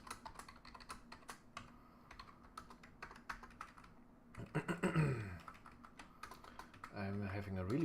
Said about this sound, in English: I'm having a really hard time on this keyboard because I'm not using my usual one